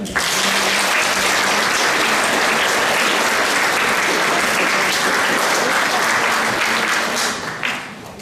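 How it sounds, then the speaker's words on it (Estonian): Warm, sustained applause from a school Christmas party audience for the pianists, dense and steady clapping that fills the room before tapering off near the end. "Palun särtsakad sõbralikud aplausid pianistidele."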